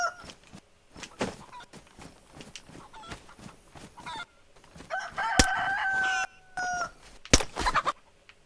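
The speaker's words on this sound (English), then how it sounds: "a bunch of roosters and chickens clucking and cock-a-doodle-doing" Chickens and roosters in the game DayZ cluck and peck in a busy flock, then a rooster crows loudly twice in long drawn-out calls, with scattered squawks between.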